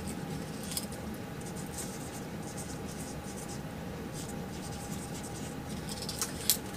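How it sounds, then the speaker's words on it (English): Pen scratching out wishes on dry bay leaves, a steady faint rasp with brief scratchy strokes over a low background hum, ending in a sharper scrape. "take our bay leaves and write down on here what we want to achieve"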